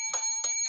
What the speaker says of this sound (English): a bell that he's ringing